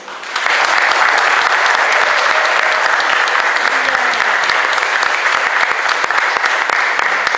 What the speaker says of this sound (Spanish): nos merecemos todos un fuerte aplauso